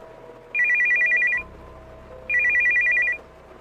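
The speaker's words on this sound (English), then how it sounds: "the phone rang" A telephone bell rings twice in a quiet home, each ring a steady electronic trill lasting almost a second, separated by a pause, close and clear with no voices.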